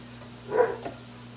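A single short dog bark, faint and somewhat distant, over a low steady hum.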